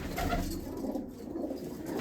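Old pigeons, long kept with care, coo steadily in a dense, continuous low burbling, with several birds overlapping close by.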